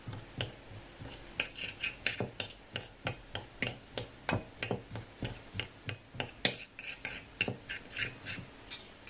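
Chopsticks rapidly whisk natto in a bowl, giving a steady run of sharp, close clicks and taps against the bowl's side, about two per second, with no voices.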